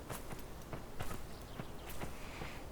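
Enemy footsteps in a video game sound as a quick run of soft, evenly spaced thuds, moderately close and fairly quiet, with no voices over them.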